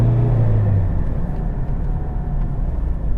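From inside a cheap Land Rover Freelander, the engine drones as the car accelerates, a heavy low rumble with a brief deep hum at the start that fades into steady road and engine noise.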